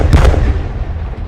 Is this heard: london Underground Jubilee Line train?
no